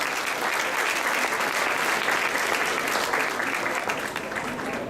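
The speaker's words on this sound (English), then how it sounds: "A warm round of applause for Regina Rucker." Steady, dense applause from a school assembly audience fills the whole stretch at an even, fairly loud level, with no pauses.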